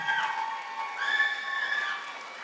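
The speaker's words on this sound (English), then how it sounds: "Let's keep the applause coming for Miss Nubia Bright." Graduation ceremony crowd applauding at a secondary school, moderate steady clapping in a large room with some cheering mixed in.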